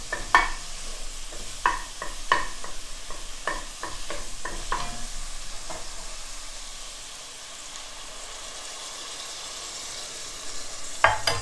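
Browning burger meat in a pan gets a splash of white wine, giving a steady close sizzle and frying hiss with scraping stir strokes, the crackle easing slightly toward the end.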